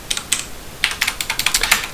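Fingers tap a computer keyboard: a few isolated clicks at first, then a quick irregular run of keystrokes, close and fairly crisp.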